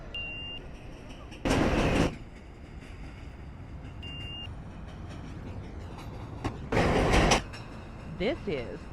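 A Manhattan-bound 4 train on the New York subway rumbles steadily with rail hum, marked by two loud bursts of hissing noise and a short high tone beeping twice.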